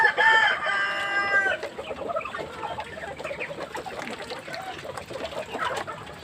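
Backyard chickens and ducks in a pen cluck and call, with a rooster-like crow at the start, then a steady mix of nearby clucking and chatter continuing throughout.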